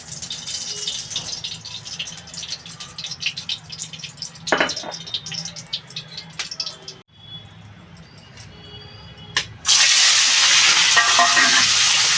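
Quiet clinks and kitchen noises, then a sudden loud, steady sizzle as something hits hot mustard oil in a wok.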